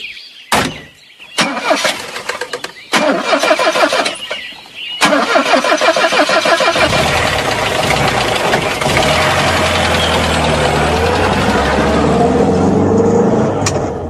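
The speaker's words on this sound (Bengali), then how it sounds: "সত্যি সত্যি খুব তাড়াতাড়ি গাড়ি ঠিক হয়ে গেল এবং আবার ছুটতে শুরু করলো।" A car engine, recently troubled by a minor carburetor fault, cranks in several choppy bursts before catching, then settles into a loud, steady running drone, staged as a radio drama effect.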